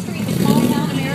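Car at an old town car cruise revving its engine, a throaty rumble that swells and then holds steady, loud and close, with people talking over it.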